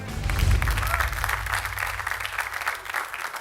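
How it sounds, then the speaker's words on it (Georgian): Studio audience of a comedy game show applauding to send off a contestant, a full burst of clapping mixed with low music or rumble, loud at first and tapering slightly toward the end. "აპლოდისმენტებით გავაცილოთ"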